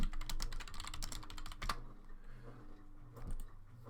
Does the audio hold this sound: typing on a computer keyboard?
yes